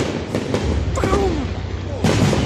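Bonfire night fireworks go off outdoors, a few dull booms and bangs mixed with whistling rockets, with people talking nearby throughout.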